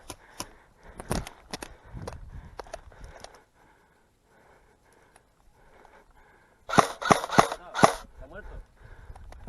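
Airsoft guns fire during a 3 versus 3 match, with scattered sharp snaps early on and a tight burst of four loud close shots near the end, voices talking in between.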